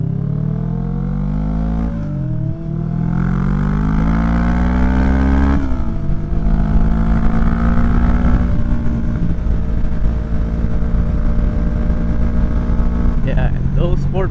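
A Kawasaki Vulcan 650 cruiser motorcycle rides along a road, its engine droning loudly and steadily with pitch rising and dropping through gear changes, wind noise underneath and a person talking over it.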